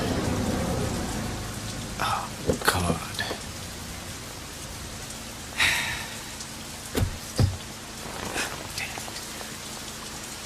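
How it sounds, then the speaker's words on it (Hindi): Steady heavy Mumbai rain hisses throughout, broken by a few sharp thuds and bumps, with a brief spoken exclamation partway through. "ये बम्बई की बारिश भी ना."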